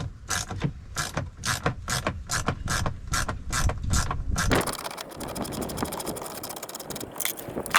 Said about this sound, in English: So it's going to be a 10mm socket that you're going to use on this.